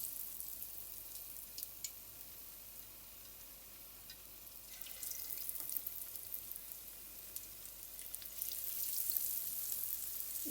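Chicken pakora pieces frying in hot oil, a faint steady sizzle and crackle that grows slightly louder as more pieces go in.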